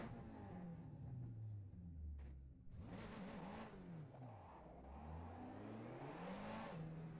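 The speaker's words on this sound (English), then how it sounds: "Sounds like a proper GT car, touring car, definitely." A Zakspeed Mercedes GT3 race car engine in rFactor 2 at Knockhill Circuit revs and climbs through gears, pitch sweeping up and down with a steady whirring roar, loud and continuous without voices.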